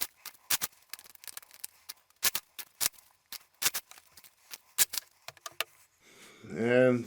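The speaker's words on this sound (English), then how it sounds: "So let me just get this shuffled up really quick." A deck of Pirate Fluxx cards being shuffled by hand, sharp crisp riffles and taps in quick irregular bursts, close and clear, ending in a short spoken phrase.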